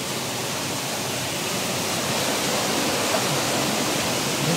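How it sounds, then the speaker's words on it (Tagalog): Rushing water of a forest waterfall roars as a dense, steady wash of noise that swells slightly stronger over a few seconds, with no voices. "Parang mas lumalakas pa yung tubig."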